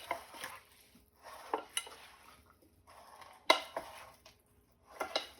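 A watermelon and feta cheese salad being mixed in a bowl gives scattered clinks and scrapes of utensils against the dish, coming in short bursts separated by quiet gaps.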